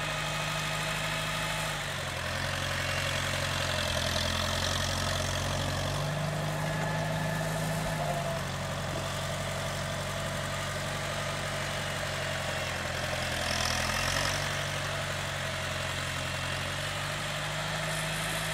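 A small tractor engine idles steadily and close by, a low, even rumble with a faint vibration that holds for the whole stretch, with no talking over it.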